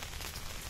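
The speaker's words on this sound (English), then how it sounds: "So it's raining heavily" Heavy rain falls on a village paddy field, a dense, even hiss of drops on surfaces, steady and fairly faint with no talk.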